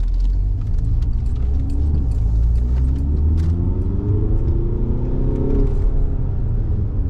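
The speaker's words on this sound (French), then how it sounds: "J'écrase même pas la pédale. C'est une voiture, elle est très calme." Car engine running smoothly at low revs on a wet road after rain, a steady deep rumble and whir with a slight rise in pitch, close and continuous without talk.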